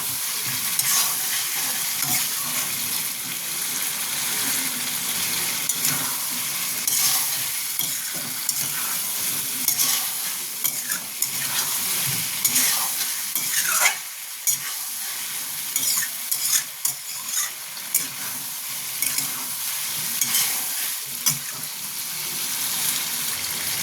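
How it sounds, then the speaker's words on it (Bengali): Chicken and bottle gourd (lau) being stirred and fried in a pan, a steady close sizzle with frequent scraping and clacking of the spatula, continuing without talk. "এইভাবে একটু ভালো মতো এটাকে কষতে হবে লাউ দিয়ে"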